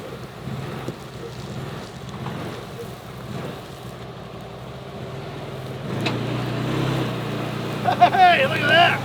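A CFMOTO UFORCE 1000 side-by-side drives in low gear with four-wheel lock engaged, a steady engine drone with wind buffeting the microphone, rising and growing rougher toward the end as someone speaks over it.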